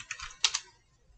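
A short, quiet burst of keystrokes on a computer keyboard, a few soft clicks with a slightly louder double tap near the middle, heard alone.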